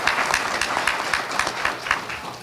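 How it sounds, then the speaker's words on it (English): An audience claps steadily at a police swearing-in ceremony, a dense even patter of many hands filling the room at moderate volume, with no speech over it. "let's give her a round of applause"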